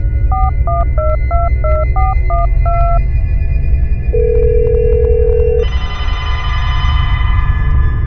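A video-game telephone rings with a repeated electronic two-tone trill, followed by a steady sustained tone and then a brighter buzzing tone, loud and alone over a constant hum.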